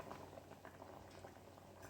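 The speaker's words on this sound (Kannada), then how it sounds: "ಇದೀಗ ಚೆನ್ನಾಗಿ ಕುದಿಲಿಕ್ಕೆ ಶುರುವಾಗಿದೆ" A bitter gourd side dish boils in a pot on a medium flame, giving soft, continuous bubbling and faint popping, quiet and close.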